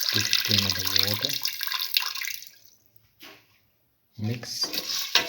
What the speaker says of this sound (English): Now pour in 15 ml of water.